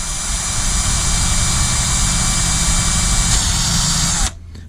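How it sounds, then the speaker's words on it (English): A power drill whines steadily at high speed, loud and close, drilling through a carbon fiber landing gear mount on an MJX Bugs 2C drone for several seconds before cutting off abruptly. "so we've got to drill through the actual carbon fiber mount as well"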